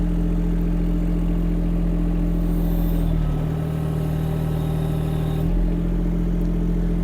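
A diesel engine on a Chinese mini excavator idles loudly and steadily nearby, its tone dipping and straining for a couple of seconds as the dozer blade is moved.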